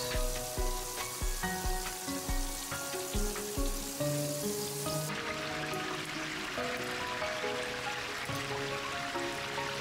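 Lamb meat frying for a tandoor dish, a continuous dense sizzle with rhythmic knocking thumps in the first half, then steady frying.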